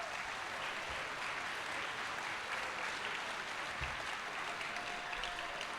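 Audience applause at the 2019 Reapercon awards ceremony, a steady, dense wash of many hands clapping that holds evenly for several seconds without any speech over it.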